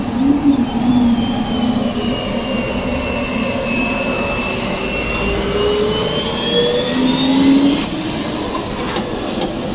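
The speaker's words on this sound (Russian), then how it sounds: "Мы закрываем двери, вскоре приступаем к запуску двигателя" Inside the cabin of a CRJ100 regional jet, an engine starts up with a steady broadband roar and a rising, whining turbine tone that sweeps upward and holds, continuous and fairly loud throughout with no talk.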